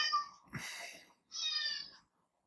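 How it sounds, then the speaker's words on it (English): A pet cat named Gunter gives two close, clear meows with a breathy sound between them, indoors and otherwise quiet. "My cat, everybody."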